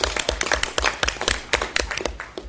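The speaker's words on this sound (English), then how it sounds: "I almost want to start clapping." Hand clapping at a board meeting, a run of sharp, irregular claps from a small group, fairly close and steady for a couple of seconds with no talk over it.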